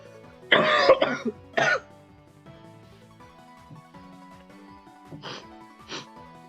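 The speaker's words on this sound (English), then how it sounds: "I'm coughing too" Two loud, close coughs in a quick cluster, followed by quieter coughs a few seconds later over a soft background hum.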